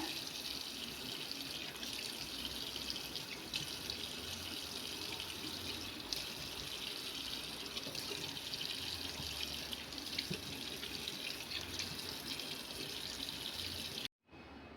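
Water runs steadily from a tap into a sink during face washing, a continuous close splashing hiss lasting almost the whole time before it briefly cuts out near the end.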